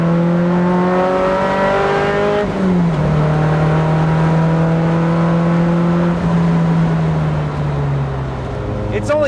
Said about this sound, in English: It definitely moves much faster than it used to. Acceleration is picked up massively.